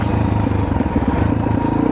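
Honda XR400 enduro motorcycle engine braking on a dirt trail, a steady, close, loud single-cylinder drone with a pulsing burble throughout and no talking.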